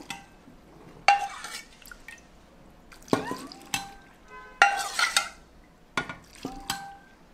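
Cooled pickle brine poured into a sterilised jar packed with Korean melon and vegetables, heard as a run of sharp glassy clinks and knocks with brief trickling and splashing between them, close and fairly loud.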